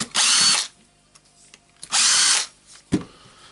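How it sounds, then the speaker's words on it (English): Two bursts of a cordless Makita DDF456 drill driver spinning out screws from its own plastic housing, each whir lasting about half a second, close and loud, followed by a sharp click of a part being handled. "now I'm removing the 4 screws here"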